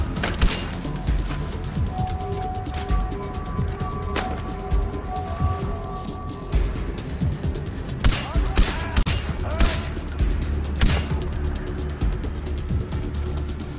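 Gunfire rings out in Far Cry 4, repeated sharp shots scattered through a busy noisy scene with several louder cracks clustered toward the end, fairly loud throughout.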